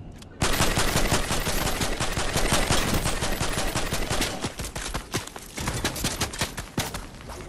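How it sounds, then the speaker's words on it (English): Video game gunfire in Fortnite, a loud, sustained burst of rapid automatic shots running without pause for about seven seconds, close and dense, with no talk over it. "I'm taking shots at them."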